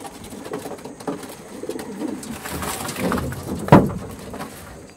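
Pigeons of an old-generation fancy breed coo softly and close by, with low murmuring calls and a louder coo near the end over faint background rustle, without talk.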